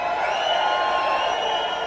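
An audience at a solo music gig in Central Florida cheers, a dense, steady roar of voices that holds at an even loudness throughout, close and unbroken.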